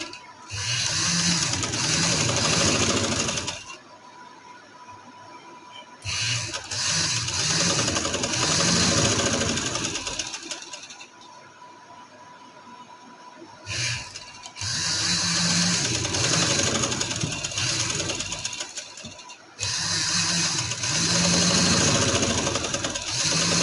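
A sewing machine stitches a summer trouser in steady mechanical runs several seconds long, with four bursts separated by quieter pauses.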